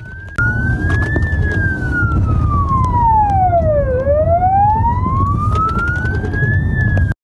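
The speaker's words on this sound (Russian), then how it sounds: "вімкнені сигнальні сирени та маячки, швидкість до сотні кілометрів за годину" Police and ambulance sirens wail loud and close during a traffic patrol operation in Uzhhorod, one tone sweeping slowly down and back up over a rumbling engine and road noise.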